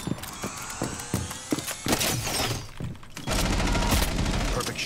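Weapon reload in a tactical shooter video game, heard as sharp mechanical clicks and clacks amid heavy gunfire and loud game noise, ending in a dense continuous barrage.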